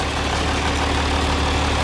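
A 1963 John Deere 5010 tractor engine, revived after sitting for twenty years, runs loud and close with a steady, rough, unbroken drone and no voices.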